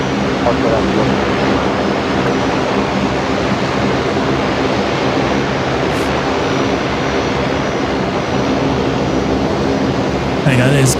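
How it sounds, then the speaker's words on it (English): Qantas 542, arriving from Sydney, touching down at Brisbane Airport: a loud, sustained jet roar that fills the whole stretch with broadband rushing noise, with people talking over it. "There you go, there's Qantas 542 touching down"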